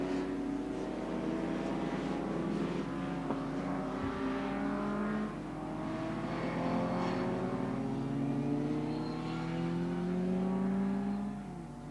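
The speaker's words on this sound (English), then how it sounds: "37 is Matthew Irons in the Ford Escort RS 2000 Mark I, running in the invitation class." A 1970s-style Ford Escort RS 2000 Mark I racing car on a dry circuit at Anglesey, engines droning and shifting pitch as cars pass, with layered rising and falling tones of several cars at moderate distance.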